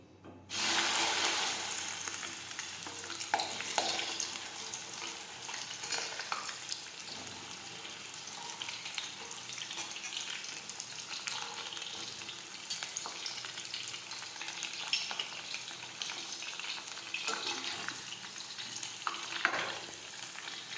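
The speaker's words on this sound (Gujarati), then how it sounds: "હવે આપણે તેમાં ભીંડો તળી લઈશું" Okra frying in hot oil in a kadai: a hiss erupts as it goes in, then a steady bubbling sizzle runs on quietly for about twenty seconds with occasional stirring scrapes.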